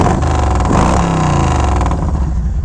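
A Yamaha Road Star 1700 motorcycle engine running close by, a loud steady rumble with a brief rise in revs, no voices.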